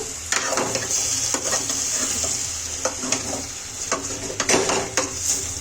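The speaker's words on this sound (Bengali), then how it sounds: "একটু এবারে লাড়াচাড়া করতে থাকবো।" A mixed vegetable curry with pumpkin seeds sizzles in a pan while a spoon stirs and scrapes it, giving repeated clinks and scrapes over a steady frying hiss.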